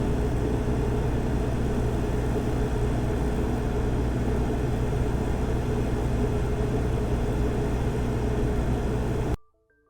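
Steady, even engine rumble and airy broadband noise come from a Cummins Quiet Connect standby generator of about 38 to 40 kW with a Level 2 sound kit at full load, unbroken until an abrupt stop.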